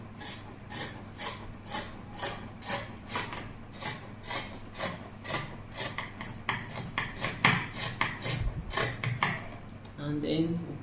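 Scissors cutting fabric for a crop shirt, a steady, rhythmic rasp of blades closing through cloth, repeated dozens of times at close range, with faint speech near the end.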